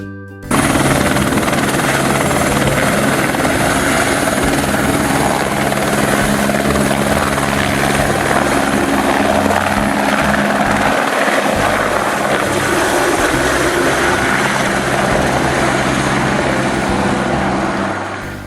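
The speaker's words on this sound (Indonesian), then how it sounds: "Helikopter." A loud helicopter, rotor and engine roaring steadily and close by without a break.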